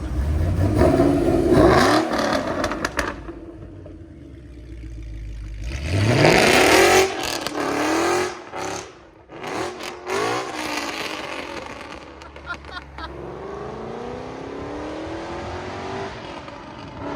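A loud V8 exhaust of a 2012 Ford Mustang Boss 302 on E85, with headers and Corsa sport mufflers, roars and revs, climbing through gears as it accelerates away, with deep rumbling and rising engine pitch, no talking.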